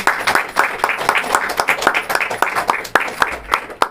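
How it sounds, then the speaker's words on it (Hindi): Church audience members at a sermon clap loudly and somewhat unevenly, with sharp, distinct hand claps close by and overlapping in a loose rhythm. "ताली बजाइए जोर से।"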